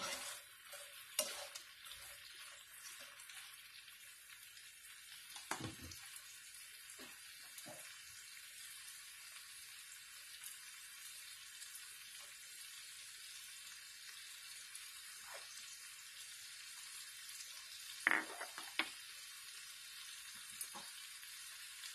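Garlic butter shrimp with green onions being tossed in a frying pan, a faint steady sizzle with a few soft scraping and clinking stirs, quiet and continuous throughout.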